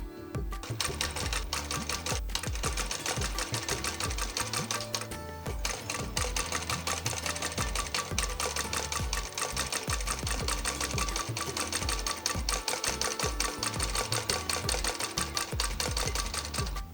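A sewing machine runs steadily while stitching a neck strip onto a kurti, a fast continuous mechanical whir with a rapid needle rhythm and only a brief slowdown near the middle.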